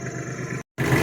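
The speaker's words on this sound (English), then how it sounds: "I'm gonna drag them limbs off real quick with the tractor" Tractor engine idling steadily nearby, a constant low mechanical drone that cuts out briefly and resumes.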